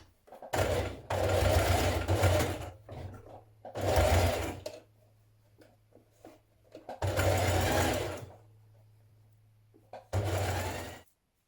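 Sewing machine stitching a 1 cm side seam on a knit dress, in several bursts of fast rhythmic whirring separated by short pauses and quiet handling noises.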